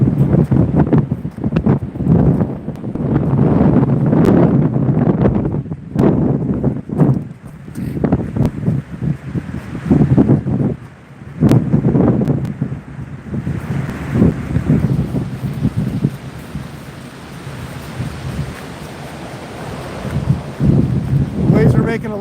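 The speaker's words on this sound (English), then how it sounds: "Waves are making a lot of noise today." Ocean surf pounding the Washington coast near Kalaloch, a loud continuous roar of breaking waves mixed with heavy wind buffeting the microphone, with a person speaking briefly over it.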